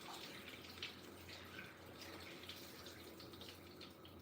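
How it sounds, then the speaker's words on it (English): Tap water running steadily into a sink or tub while beef is washed, a continuous close hiss and splash with light dripping, no breaks. "I'm running water because it's not always safe to just wash it in one place"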